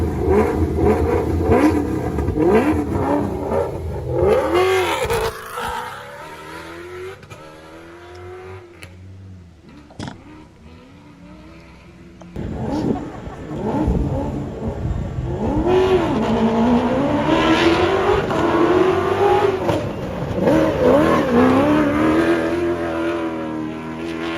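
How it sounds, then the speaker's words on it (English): A Toyota Hilux rally race car pulls away with its engine revving hard. The rising, snarling notes shift through the gears, ease off briefly in the middle, then climb loud again close by. "if you'll play that clip of Eben in the Team Hilux car as it pulls away, it just sounds so nice"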